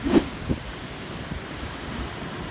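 Ocean waves wash against the shore at high water in a steady, broad rush of surf mixed with wind buffeting the microphone, with a couple of louder surges near the start and no talking.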